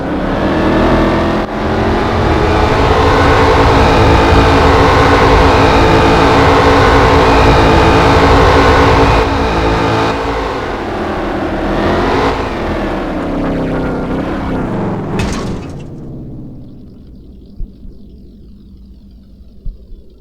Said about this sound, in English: This car was easy to drive.